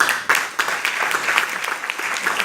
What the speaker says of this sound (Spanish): vamos a darnos un fuerte aplauso a todos